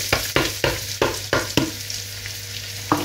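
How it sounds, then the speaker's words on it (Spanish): Spring onion fries in a hot pan, a steady sizzle broken by a quick series of sharp stirring scrapes, about six in a row, then one more after a pause, close and clear. "Vamos a poner la cebolleta"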